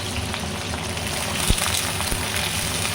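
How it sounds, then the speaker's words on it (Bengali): Vegetables hit hot oil in a kadai (wok) and fry with a dense, steady sizzle close to the mic. A sharper pop and crackle comes partway through, and no one speaks. "এদিকে কড়াইতে আমি তেল বসিয়ে দিয়েছি, তেল গরম হয়ে গেছে। এবার সবজিগুলো এক এক করে আমি কড়াইতে ঢেলে দিলাম।"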